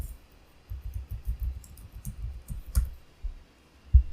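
A computer mouse clicks repeatedly in irregular bursts while working in Visual Studio, the sharp close clicks spread over a few seconds with no voices.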